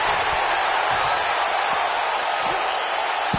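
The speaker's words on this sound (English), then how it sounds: "Listen to this crowd, King." A wrestling arena crowd in WWE 2K19 roars as a broad, steady wash of cheering, loud and unbroken, with commentary voices running over it.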